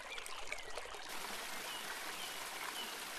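River water flowing over exposed limestone rocks, a steady, faint, hissing rush with soft trickling, heard alone without talk.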